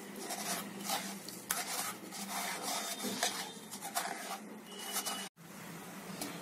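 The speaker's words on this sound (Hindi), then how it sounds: "अच्छी तरह से गुड़ और दूध को मिक्स करके" Jaggery and cold milk are stirred together into a smooth paste for a Bengali doodh puli dessert, giving a steady close-up scraping and rubbing of a spoon against the vessel, with a few sharper knocks and no talking.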